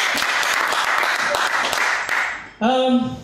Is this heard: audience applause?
yes